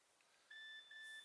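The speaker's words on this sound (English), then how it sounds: "There's the phone again." A mobile phone gives a text message alert in a quiet wood on a cold overnight camp, a faint, thin electronic beep tone held steadily for under a second, heard alone.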